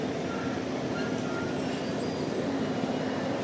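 A train at a station in Surat, bound for Mumbai, fills the air with a steady, even hum and rumble of rail traffic, with no break or distinct event.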